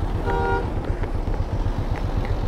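Dense motorcycle and car traffic on a hill road between Chandigarh and Kinnaur, a steady close rumble of engines with a brief horn toot early on.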